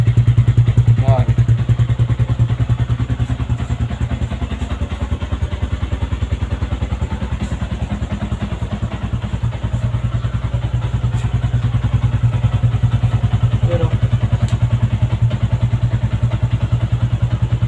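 A Yamaha Sniper 150 motorcycle engine runs steadily at idle close by, with a low, even rumble and a few faint clicks and thuds on top.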